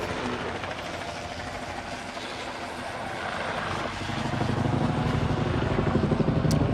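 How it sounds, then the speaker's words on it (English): A helicopter's thumping rotor drone, loud and steady, growing stronger as it passes close overhead on a hiking trail near Griffith Observatory, Los Angeles. "there's that helicopter I was worried about"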